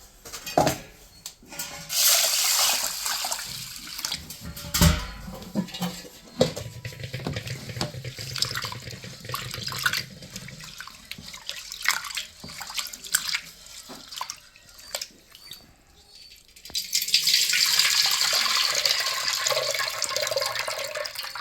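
Tap water runs into a pressure cooker, filling it to boil pigeon pea dal for a Rayalaseema wet chili dal. The splashing stream stops and starts, mixed with metal pot clatter and drips. It ends in a louder, steady gush, with no talking.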